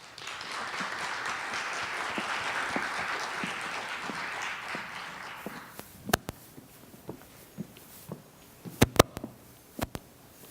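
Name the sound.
audience applause for speaker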